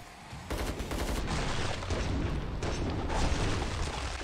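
Rapid gunfire from the video game Killing Floor 2, with dense overlapping shots and bursts in quick succession, loud and continuous after a brief quieter start.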